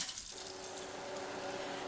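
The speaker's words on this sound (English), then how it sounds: "pick up a handful of the beans and I just run them underneath the water and move my hands back and forth" Tap water runs steadily over a handful of lima beans being rinsed by hand, a soft continuous splashing stream with no talking.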